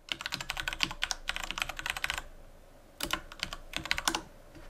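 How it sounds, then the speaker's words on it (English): A command is typed on a computer keyboard: quick bursts of close, crisp key clicks, a short pause, then two more brief flurries of tapping. "we're going to type in ansible-playbook followed by this YAML file"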